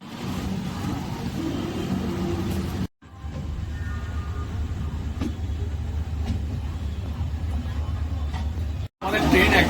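The Howrah–Mumbai CSMT 12810 passenger train rumbles steadily as it pulls out of the platform, with a low rolling hum from the carriage interior under a person talking throughout.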